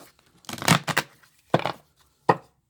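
Oracle cards are shuffled by hand, riffling in three quick bursts, the first longest, with soft papery slaps and pauses between them, close and clear.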